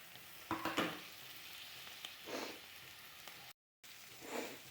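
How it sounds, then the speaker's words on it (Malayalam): Coriander powder masala sizzling in a pan for chicken roast, with a few soft scraping stirs and bursts of frying noise rising and falling, fairly quiet with a brief gap. "നല്ലോണം ഇത് മൂത്ത് വരുന്നത് വരെ ഇളക്കി കൊടുക്കുക"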